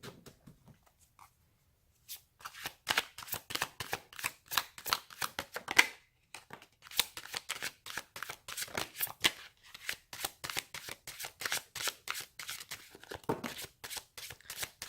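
A tarot deck is shuffled and cards are pulled, producing rapid rhythmic riffling and flicking bursts that stop briefly and then resume, close and crisp with no talk.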